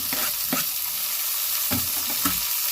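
Onion, garlic, ginger and tomato fry in a pan with a steady crackling sizzle, broken by a few scraping stirs of a spoon, close and continuous with no talk.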